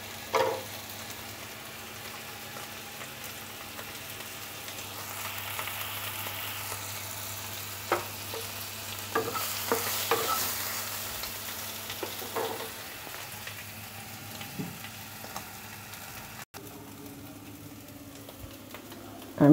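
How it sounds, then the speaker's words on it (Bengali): Potatoes being stirred and fried in butter with salt and cumin, giving a steady low sizzle with occasional scrape and stir knocks throughout. "আমি আলুগুলোকে নেড়ে চেড়ে ভেজে নিচ্ছি"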